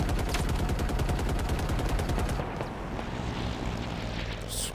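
Rapid automatic gunfire from enemies in Halo Infinite, played on Legendary difficulty, rattling in a dense, loud burst for about two seconds before dropping to a lower rumbling battle din.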